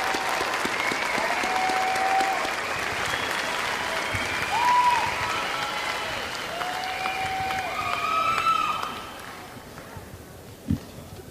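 A large commencement audience claps for College of Business Administration graduates at a fall ceremony, steady applause swelling and then fading away, with a brief sharp knock near the end.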